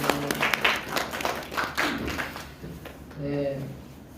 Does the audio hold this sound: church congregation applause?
yes